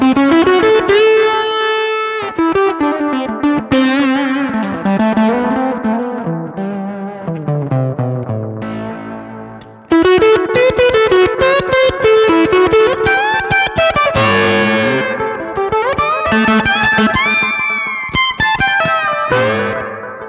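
An electric guitar runs through a Milkman Sounds The Amp Stereo amplifier, playing ringing chords and melodic lines in two passages. The tone has a wide stereo chorus and modulation effect, and there is no talking.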